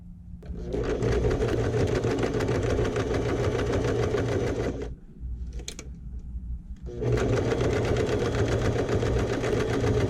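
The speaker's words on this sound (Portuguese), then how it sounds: "Vou costurar aqui e aqui, retrocesso no início e no final." Sewing machine stitching a small denim shoulder bag, with backstitching at the start and end of the seam: two long, loud bursts of steady rapid stitching separated by a short pause with a few light clicks, no talking.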